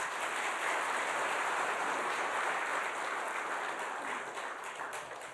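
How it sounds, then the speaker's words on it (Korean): Church congregation at a revival gathering applauds to welcome the pastor, loud, sustained clapping from a full room that holds steady and fades slightly toward the end. "박수로 목사님 모시겠습니다"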